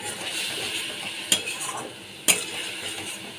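Spices being stirred and sautéed in a cooking pan for an egg curry with cauliflower and potato, a steady close sizzle broken by two sharp clinks of a utensil against the pan, no talk.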